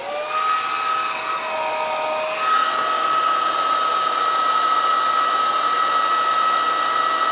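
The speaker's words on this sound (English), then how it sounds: "I have a hair dryer here. Let me warm up the temperature sensor a little bit." A hair dryer warming a temperature sensor blows with a steady high whine that shifts pitch slightly partway through as the setting changes, then runs evenly, loud and close.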